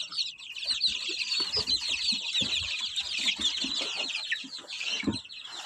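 Young chickens, half-grown chicks, cheep and cluck nonstop at close range, a dense chorus of high chirps with scattered low rustles and knocks, no voices.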